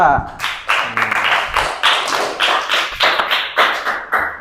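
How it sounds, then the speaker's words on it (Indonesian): A classroom group of students gives a round of applause, clapping rhythmically and loudly in a steady, evenly spaced beat close by, with a voice heard briefly at the start. "Tepuk tangan untuk kelompok 2."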